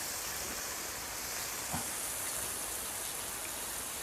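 Rain falling at home in Thailand, a steady dense hiss of downpour that stays even throughout, with one faint brief knock partway through and no one talking.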